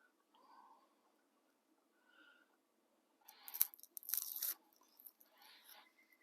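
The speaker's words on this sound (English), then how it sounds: "Quit chewing on a piece of wood." A dog gnaws on a piece of wood while truck camping in a winter storm, with faint crunching bites near the end after quiet stretches of low sound.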